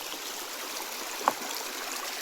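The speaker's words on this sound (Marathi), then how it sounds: "भरपूर पाणी चालू राहतं" River water flows steadily in a soft continuous rush, like a stream, with a single faint click partway through; no talking.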